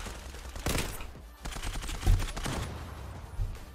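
An M4 rifle fires in the video game Zula in loud, rapid bursts of close gunshots, with brief pauses between volleys and heavy thumps mixed in.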